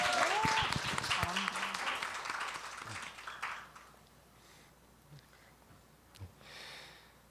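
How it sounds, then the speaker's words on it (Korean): An audience in a hall applauds after a student presentation at a university festival, with loud, dense clapping that fades away after a few seconds. Quiet room noise and a few faint sounds follow. "함께 한 학기 동안 정말 열심히 활동해준 서포터즈 3기 팀원분들과 함께 박수를 받고 싶습니다"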